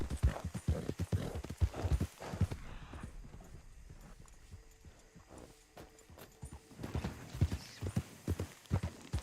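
Horse hooves clip-clop in a video game, a rapid, close run of beats at the start that thins to a quieter stretch in the middle before the galloping picks up loudly again at the end.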